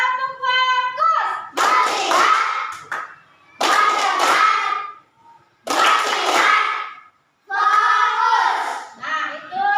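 A classroom of primary school children claps hands in a counting focus game, with bursts of clapping mixed with loud group chanting, separated by short pauses in a regular call-and-response rhythm.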